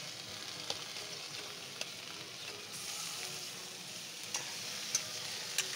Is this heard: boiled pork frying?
yes